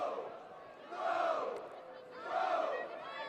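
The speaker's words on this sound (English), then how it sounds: "Hear the crowd getting loud in the stands." Spectators in the stands at a women's ultimate frisbee final between Ireland and Switzerland chant and roar in two swelling waves, sustained and loud, with voices rising and falling together.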